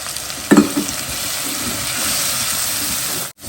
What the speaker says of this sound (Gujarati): ચાલો આપણે મસાલાને સરસ મજાના શેકી લઈશું